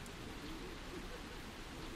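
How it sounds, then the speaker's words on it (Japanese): Heavy rain falls on a campsite at Moon Beach campground, making a steady, even hiss that fills the whole moment softly with no voices. "また雨の方強くなってきましたね。"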